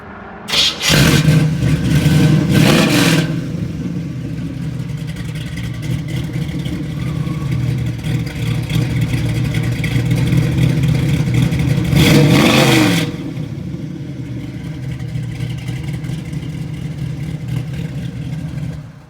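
Chevrolet Camaro RS SS 396 V8 rated at 375 horsepower starting up with a loud blip of revs, settling into a deep, lumpy idle, then revving hard once more before dropping back to idle.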